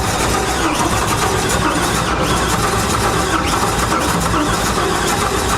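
A 1967 car engine starting up with its ignition timing off, giving a dense, rough, continuous roar at steady loudness, close to the microphone.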